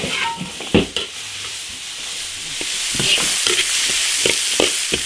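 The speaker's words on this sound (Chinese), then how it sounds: "生姜、大蒜泡椒，下萝卜炒香。" Radish stir-fried in an iron wok with ginger, garlic, Sichuan peppercorns and pickled chili gives a steady, close sizzle, punctuated by several sharp spatula scrapes and clacks against the pan.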